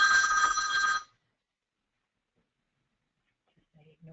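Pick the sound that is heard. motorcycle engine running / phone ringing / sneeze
phone ringing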